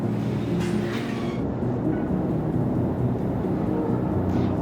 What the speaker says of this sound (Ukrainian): Це харківське метро.